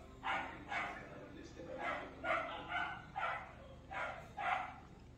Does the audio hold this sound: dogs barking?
yes